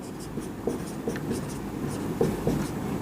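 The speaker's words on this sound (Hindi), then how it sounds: "तो उसको हम अलग लिख लेते हैं" Handwriting on paper, a soft continuous scratch of pen strokes with small accented taps, close up and steady over a few seconds without speech.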